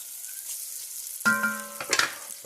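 Onions and peppers frying in a pan for a cabbage dish: a soft hiss runs throughout, broken midway by a few sharp clanks and scrapes as the vegetables are stirred, close and moderately loud.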